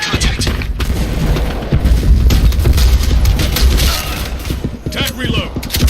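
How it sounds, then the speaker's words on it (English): Grenade blasts and gunfire in the BlackSquad video game, loud booming bursts and rapid shots layered densely throughout, with a voice speaking amid the chaos. "Take a grenade!"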